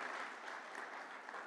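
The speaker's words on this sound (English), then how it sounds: "we better have a round of applause for Jerry and his team" A conference audience gives a brief round of applause for an event's organisers, a quiet, even wash of clapping heard from a distance and lasting only a moment.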